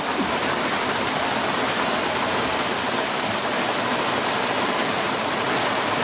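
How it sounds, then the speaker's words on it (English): A hailstorm pelts a sailboat, giving a dense, loud, unbroken hiss and patter of hailstones that keeps a steady intensity throughout. "got hailstones. We thought it had stopped, but it nearly had stopped, and now it started up again."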